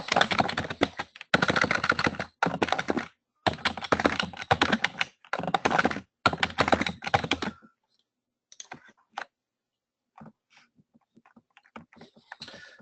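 Password being typed on a computer keyboard to log into an account, heard as close, rapid bursts of key clicks in several runs, then a few sparse faint taps trailing off into near silence.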